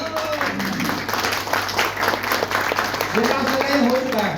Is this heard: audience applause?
yes